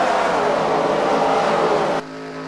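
Stock race cars in a racing video game at North Wilkesboro Speedway roar loudly as they accelerate back up to speed, a dense continuous engine drone that cuts off abruptly near the end, leaving a quieter steady hum.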